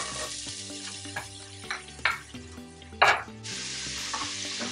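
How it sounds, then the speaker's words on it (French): Chopped onion sizzling in hot oil for a homemade lasagne sauce, a steady hiss with several louder bursts of crackle as the pieces are stirred, no talking. "on rajoute l'oignon."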